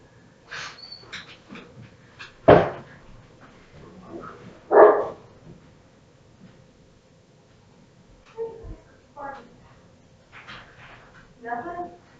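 Several dogs bark in sharp bursts indoors, some loud and close, others fainter, scattered irregularly across the stretch with quieter gaps between.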